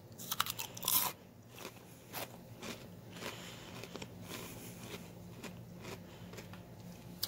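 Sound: crunching Cheez-It cheddar cheese crackers

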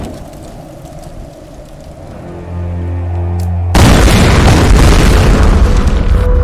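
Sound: explosion in Tomb Raider video game

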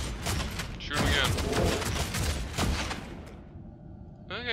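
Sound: gunfire from the video game Deathwatch: Tyranid Invasion

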